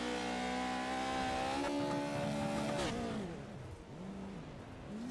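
Off-road race trucks brake hard into corners on a dirt track, a loud, close engine drone with steady harmonics that drops in pitch and wavers as they slow, then fades slightly as they pass.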